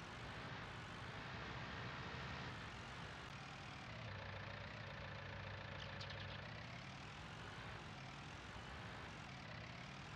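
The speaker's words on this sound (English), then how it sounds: "Hop in the tractor, John Deere." A John Deere tractor engine idles in Farming Simulator 19, a steady low rumble that stays continuous and even throughout, with no voices over it.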